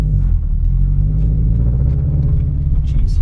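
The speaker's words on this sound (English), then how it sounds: "of course there's a truck coming" A truck passing on a quiet residential road, a loud deep rumble of engine and tires that stays heavy and steady close by, with no talking over it.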